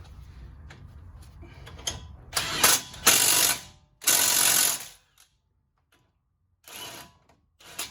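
A ratchet tightens 18mm bolts on a Silverado 4x4 lower ball joint, giving bursts of rapid metallic clicking, loud and close, separated by quieter pauses and short handling noises.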